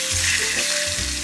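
Steady, loud sizzling of steak frying in hot oil, a dense crackling hiss close by with a faint low hum underneath.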